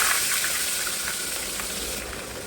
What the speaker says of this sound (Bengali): তো আমি পেঁয়াজগুলো আগে ভেজে নিচ্ছি।